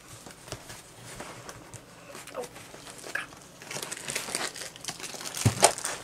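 Plastic bags of sparkly gems being handled and unwrapped close by, with rustling and crinkling that grows busier and louder toward the end, plus a few sharp crackles.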